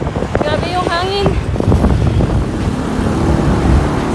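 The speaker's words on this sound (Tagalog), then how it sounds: "Grabe yung hangin." Strong wind buffets the microphone in a rough, loud rumble, with a voice briefly heard over it near the start.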